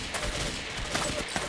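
Rapid gunfire in the blocky online shooter Ace of Spades, a brief volley of sharp, closely spaced shots with a crackling, automatic feel, moderately loud over a busy game backdrop.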